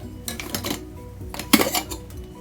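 A pressure cooker holding cooked carrots is opened after cooling, giving a series of close metallic clanks and rattles of the lid and pot, with a sharper clatter near the end and no talk.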